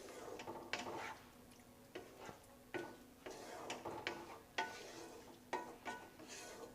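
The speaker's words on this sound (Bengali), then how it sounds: "ওপর থেকে দিয়ে দিচ্ছি অল্প একটু কসুরি মেথি ছড়িয়ে। এটাকেও মিক্স করে নেব।" Cauliflower korma being stirred after a sprinkle of kasuri methi, a spoon scraping and knocking against the pan in repeated soft strokes, with a faint simmer underneath.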